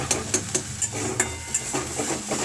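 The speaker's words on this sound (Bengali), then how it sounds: "এবার আমি এটা এখনও পর্যন্ত নাড়াতেই থাকবো যতক্ষণ না তেল ছেড়ে যায় এটা থেকে, ঝিঙেটা থেকে।" A utensil stirs ridge gourd paste in a pan as it cooks down until the oil separates, with quick rhythmic scraping taps over a soft sizzle, close by and with no talking.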